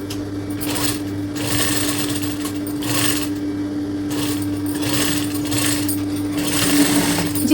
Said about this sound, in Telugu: ఇప్పుడు వీటిని ఫోల్డింగ్ చేసి స్టిచ్ వేసుకుందాం